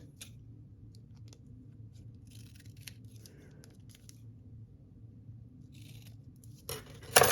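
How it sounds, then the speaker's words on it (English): Scissors snipping the excess off a paper 'Admit 1' ticket for a scrapbook page, a few faint, scattered crisp cuts over a quiet room hum, with a louder rustle at the very end. "We'll have to cut the extra off."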